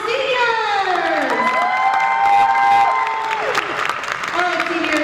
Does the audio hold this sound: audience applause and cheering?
yes